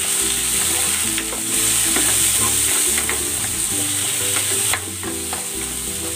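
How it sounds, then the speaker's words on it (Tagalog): Tomatoes sautéing with onions in a pan for beef ampalaya, a loud constant sizzle with rhythmic metallic scraping and clinks from stirring, close to the pan, no one talking. "Igigisa ko na rin tong kamatis"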